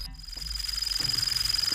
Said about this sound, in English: her toy bird has been doing really weird things as of late